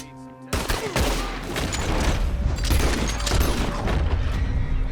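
Gunfire in the Red Dead Redemption 2 video game: a dense, continuous barrage of overlapping shots and booms, loud and close, with no pauses for several seconds.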